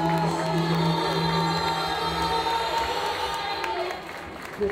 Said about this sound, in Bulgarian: Шум, аплодисменти за младото семейство да ни чуя!